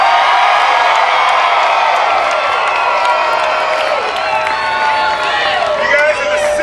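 Large crowd cheering and whooping at a Kentucky basketball championship trophy tour stop outside a Kroger in Owensboro, a loud, sustained roar of voices and clapping with shrill individual yells rising near the end.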